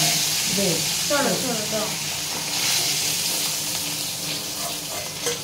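Hilsa fish and khichdi cooking in a pan as it rains outside, giving a steady, close oil sizzle throughout while people talk over it.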